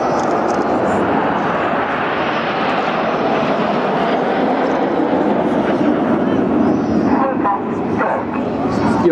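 Red Arrows Hawk jets fly in formation at a seaside air show, a broad, sustained roar of jet engines with a commentator talking over it and crowd noise around.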